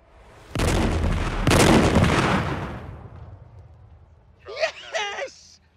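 Artillery cannon fire on a television motoring show: two loud, close booms about a second apart, each rumbling away slowly, followed by someone shouting excitedly.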